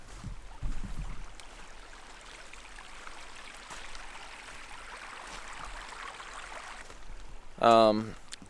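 A small creek runs beside a truck campsite, giving a soft, steady babble of flowing water that stays faint throughout, with a brief knock near the start and a voice breaking in near the end.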